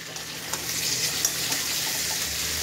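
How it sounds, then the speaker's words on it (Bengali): Potatoes and pointed gourd sauté in a pan, a close, steady sizzle with soft stirring clicks and scrapes throughout, no voices. "আর এদিকে আলু পটল কষা হচ্ছে"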